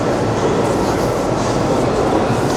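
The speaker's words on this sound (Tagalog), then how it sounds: "Ayun na yung train." A train pulls into a busy station, its loud, continuous rumble and rattle of rolling cars filling the whole moment, close by and without pause.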